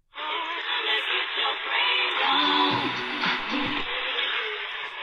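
AM radio broadcast on 1390 kHz, WGRB Chicago, playing through a GE SuperStar 7-2850 portable set with bass and tone turned up; a steady, band-limited broadcast with music and voice-like content, continuous and fairly loud throughout.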